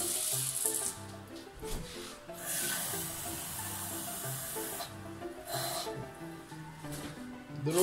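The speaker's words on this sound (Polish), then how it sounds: "I teraz wlewamy 3 kubki wody" Cups of water poured one after another into a pot of wheat grain, giving a few short, splashy hissing bursts over steady background music.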